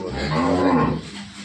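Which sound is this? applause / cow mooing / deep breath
cow mooing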